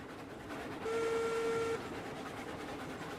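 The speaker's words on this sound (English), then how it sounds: "Yeah, I can totally hear the whistle" A steam train whistle in the railway game Railroads Online gives a single steady tone lasting about a second, moderately faint over a low rumbling background.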